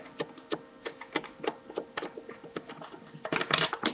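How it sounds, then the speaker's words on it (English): A screw is worked out of an old external hard drive enclosure, making a steady series of close, small clicks and ticks that speed up into a brief louder rattle at the end. "you find the right screw size and you just take out that screw"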